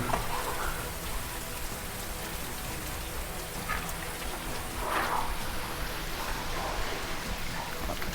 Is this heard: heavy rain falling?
yes